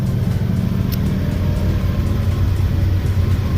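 A 1991 Eagle Talon engine, a first-generation DSM with an idle surge fixed by a block-off plate, runs with a steady low drone and mild throttle, loud and close, without any talking.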